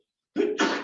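One quick, sharp sneeze bursts out after a moment of silence, a two-part explosive puff close to the listener.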